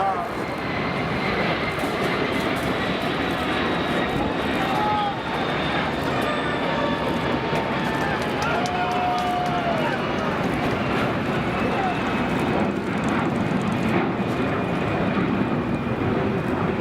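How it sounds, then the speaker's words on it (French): The aircraft carrying the space shuttle Endeavour comes in to land, bound for the California Science Center, as a loud, sustained jet engine roar with shifting whining tones, and voices murmur faintly beneath it. "un avion a atterri avec la navette spatiale Endeavour à son bord"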